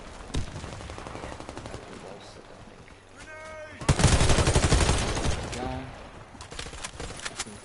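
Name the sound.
gunfire in the video game Warface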